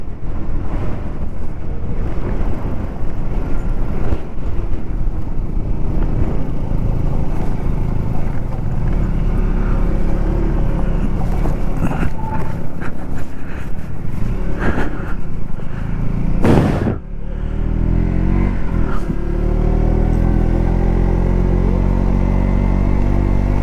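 A motorcycle rides uphill on the road to Khardung La pass, its engine a steady drone under heavy wind buffeting the microphone for the whole stretch, with one brief loud thump partway through.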